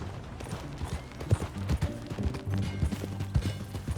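Horse hooves clopping at a steady riding pace in Red Dead Redemption 2, a close, rhythmic run of dull low thuds with a light rattle of tack underneath and no voices over them.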